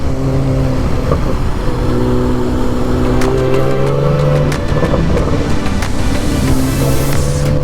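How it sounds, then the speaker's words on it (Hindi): A supercar's exhaust rumbles loud and close while driving in Hyderabad, with a steady drone, shifting engine tones and rising revs under road and wind noise. "इसकी एग्जॉस्ट की साउंड,"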